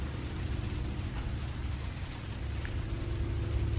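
Rain falls steadily during the rainy season in Bandung, a dense, even wash of patter that holds at a moderate level throughout, with an occasional distinct drip standing out.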